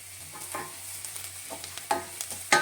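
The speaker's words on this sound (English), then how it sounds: "heat up some olive oil, and then into that we're going to add in the finely chopped onions and let that saute" Finely chopped onions sauté in hot olive oil in a pot, a soft quiet sizzle broken by a few light scrapes and stirring clinks, the last ones louder.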